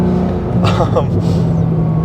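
A stock Porsche 911 Turbo S with a loud exhaust rumbles through a tunnel, a deep engine drone with a short burst of burbles and pops, loud and close, with speech over it.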